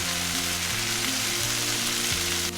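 Chicken frying in a pan with red pepper flakes and Italian seasoning, a steady loud sizzle that crackles and spits continuously without a break.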